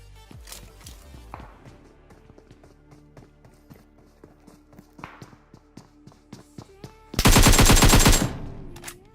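Gunfire in a video game, including sniper rifle shots, as sharp repeated cracks over running footsteps, ending in a loud dense burst of rapid fire.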